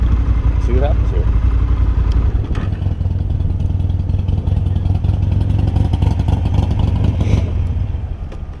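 A motorcycle engine idles and rumbles steadily during an advanced rider training course, close and loud with a low throbbing drone, light clatter and a brief rev, while a person talks over it.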